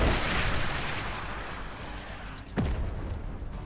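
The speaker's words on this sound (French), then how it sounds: "Tire une roquette là devant." A rocket fires and detonates in a busy multiplayer video game match: a sharp burst slices through a dense, roaring wall of battlefield noise, followed by louder rumbling explosion wash.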